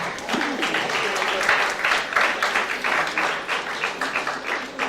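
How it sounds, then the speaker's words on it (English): Supporters receive a big round of applause at a college magazine first-issue launch, dense crowd clapping filling the room steadily for about five seconds with a few scattered voices underneath. "So give them a big round of applause."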